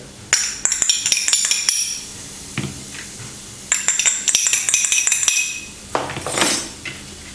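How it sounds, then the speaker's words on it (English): Minced garlic and ginger tumble into a sauteing pan for dhal, giving bright metallic clinks and scrapes of a utensil against the pan in two loud bursts separated by a quieter pause, with no talking. "Next, add the minced garlic and ginger."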